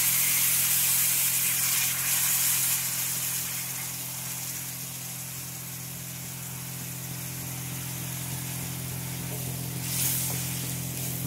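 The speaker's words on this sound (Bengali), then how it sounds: "এবারে জল ঢেলে দিলাম।" Water is poured into a hot pan of chilli powder and turmeric frying in oil, making a loud, steady sizzling hiss that starts strong and slowly settles into a softer, continuous bubbling.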